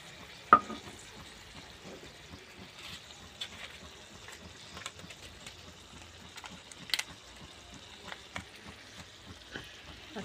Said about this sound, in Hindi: इन सब चीज़ों को हम उलट पुलट कर देंगे और अच्छे से मिला देंगे इसको